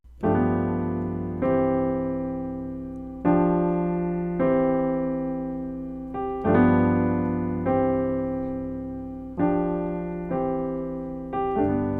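Piano outro chords from a song are struck about every second and a half. Each chord rings and decays before the next in a steady, close progression with no talk.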